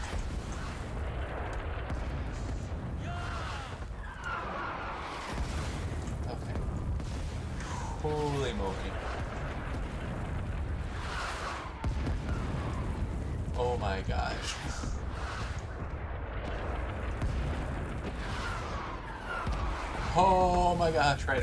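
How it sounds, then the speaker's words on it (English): Many explosions in a video game sound as repeated muffled booms and rumbling bursts under a constant low roar, scattered through the clip, while a person talks over them. "There's so many explosions."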